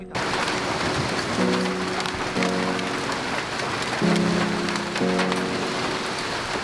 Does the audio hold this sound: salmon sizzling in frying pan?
no